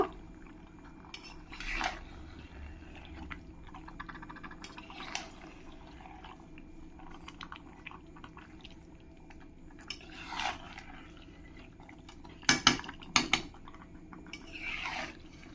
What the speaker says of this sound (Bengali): চিকেনটা দিয়ে ভালো করে আমি মশলার সঙ্গে মিশিয়ে নেব